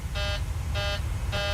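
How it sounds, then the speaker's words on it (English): The cabin altitude warning horn in a Boeing 737-700 cockpit in Microsoft Flight Simulator 2020 sounds three evenly spaced intermittent beeps over a steady low engine and air rumble. "let's see if I can silence the alarm. Cabin altitude."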